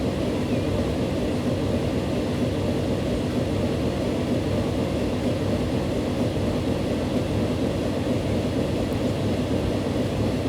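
Train wheels roll on rails in Transport Fever, a steady, loud, continuous rumble and hiss that stays constant throughout with no voices.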